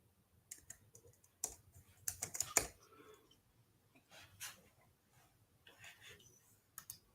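Keystrokes on a computer keyboard come in scattered quick bursts of clicks, faint and close, with quiet gaps between the runs of typing.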